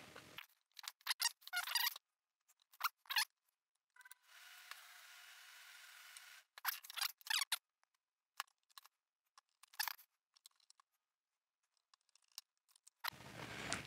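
Screws are driven by hand into the back panel of a PDU during an isolated-ground conversion, heard as faint, sporadic metallic clicks and scrapes in short bursts separated by near silence, with one steadier whirring stretch.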